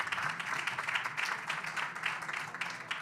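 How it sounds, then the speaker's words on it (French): Audience applause at a French tech talk, a dense, sustained wash of many hands clapping at moderate volume throughout, with no distinct voices over it. "Déjà, je pense qu'on peut l'applaudir."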